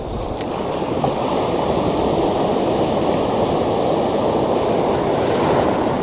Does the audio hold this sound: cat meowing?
no